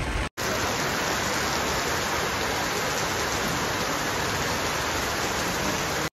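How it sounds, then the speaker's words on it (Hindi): Heavy rain pours down in a dense, steady roar that stays loud and unbroken throughout after a brief gap at the start, with no voices over it. "भाई वर्षा बर्तमान बहुत जोर होता है"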